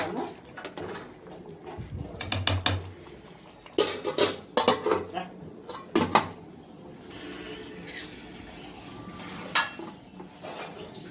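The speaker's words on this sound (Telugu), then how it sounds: "ఒక్క నిమిషం మళ్ళీ మూత పెట్టి ఉడికిద్దాము" A lid clanks down onto a pot of brinjal curry, with several sharp metallic knocks and rattles in quick bursts over a low kitchen background, then quieter scraping.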